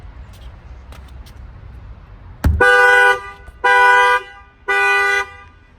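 A 2019 Jeep Grand Cherokee's factory alarm goes off after a sharp bang on the glass, sounding three loud, evenly spaced horn blasts close by, each about half a second long.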